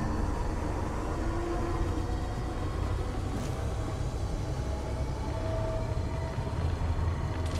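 A steady, loud rumble of a train departing in the video game Apex Legends Mobile, continuous low mechanical noise with faint squeals, no voices.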